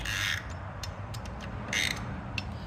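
Wrench ratcheting down the bolt on a lowered Knight Design foot peg of a 2001 Hayabusa, giving quiet, scattered metallic clicks and creaks close by.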